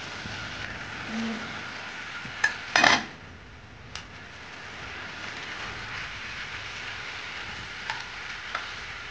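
Chicken frying under a lid in a covered pan, a steady faint sizzle with a few brief clinks of lid and utensil early on, no one talking.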